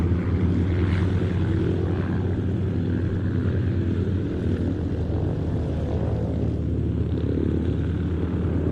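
Propeller-driven display aeroplane flying at an airshow, a loud continuous droning engine and airscrew rumble that swells and fades slightly as it passes, with no talk.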